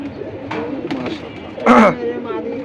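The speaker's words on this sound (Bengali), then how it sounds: "সচরাচর পাঙ্কি কবুতর কিন্তু মানুষের সামনে বাইবেট দিতে চায়" A fantail pigeon coos with soft, low murmuring calls, partly masked by people talking close by, with one louder burst near the end.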